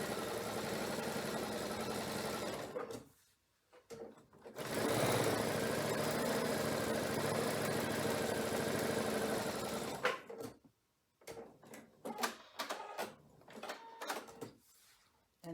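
A sewing machine stitches diamond quilt blocks in long, steady motor-driven runs, pausing briefly, then resuming with shorter, choppy bursts of stitching near the end.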